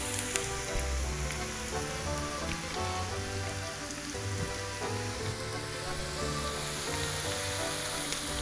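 Garlic sizzles in a hot pan with a constant bright, crackling fry like steady rain, close and even throughout, with no voices.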